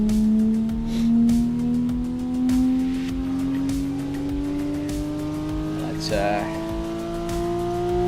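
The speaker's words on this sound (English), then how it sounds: "So this is the Porsche 992. We're driving in LA Canyons." A Porsche 992 is driven along a canyon road in a racing video game, its engine drone holding steady and slowly climbing in pitch as it accelerates, with brief tire noise partway through.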